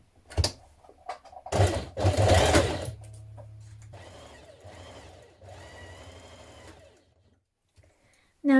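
Sewing machine stitching a jacket seam, short bursts of loud close motor whirring followed by a softer steady hum of stitching, then quiet at the end.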